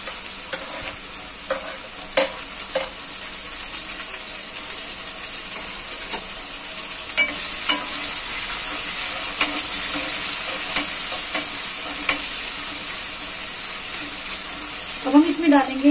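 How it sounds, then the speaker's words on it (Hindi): Chopped tomato and boiled peas sizzle in a pan with onions while a spoon stirs and scrapes at irregular intervals, a steady soft frying hiss underneath, with a brief clatter near the end. "अब हम डालते हैं इसमें कटे हुए टमाटर।"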